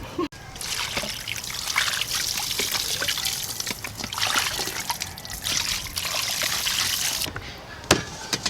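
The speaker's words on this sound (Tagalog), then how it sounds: "So umpisa, hugasan na muna natin to." Water running and trickling while pork hock is washed outdoors, a steady close splashing flow with small splatters and bumps throughout.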